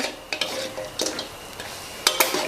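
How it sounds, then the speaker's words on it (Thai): Crispy fried tilapia dry stir-fried in a hot pan, giving scraping stirring strokes and light clatter against the pan at an irregular pace, close and fairly quiet, with no talk. "จะคั่วให้แห้งเลยนะคะ แล้วก็จะมีความแบบกรอบๆนะ"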